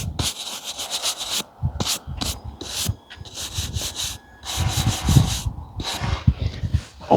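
Delicate collectible books are slid into protective bags by hand, giving close bursts of plastic rustling and rubbing in uneven spurts separated by short pauses.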